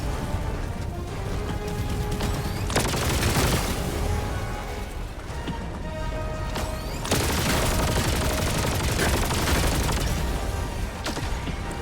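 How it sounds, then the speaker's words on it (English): Dense, continuous fusillade of gunfire and booming grenade explosions from the video game Helldivers 2, loud and sustained, with heavy bursts and rapid shots layered throughout and no clear talk over it. "They keep throwing grenades, or trying to throw grenades at me and failing."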